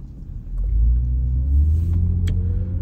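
A vintage car drives along a road, its steady low engine rumble close and continuous throughout, with a couple of faint brief ticks on top and no talking.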